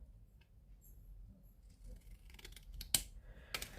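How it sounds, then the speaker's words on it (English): Scissors snipping through folded card for a Christmas treat box, a few quiet crisp cuts building toward the end, close and alone with no talk. "I'm just going to cut along that fold,"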